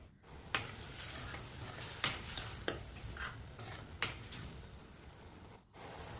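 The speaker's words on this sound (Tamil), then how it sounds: "இது பச்சை வாசனை போகிற வரைக்கும் வதக்கிங்க." Tomato paste being stirred and sautéed in a pan for spicy kadai paneer, with soft steady sizzling and several sharp spoon scrapes and taps against the pan, close and fairly quiet, no talk.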